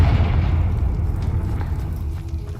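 A Confringo blasting spell explodes in a video game, a loud sustained low rumble that rolls on for a couple of seconds and slowly fades.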